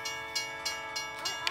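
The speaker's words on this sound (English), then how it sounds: "I hear a train." A train rumbles past with a sustained horn-like tone and regular clacking rhythm, fairly loud and close.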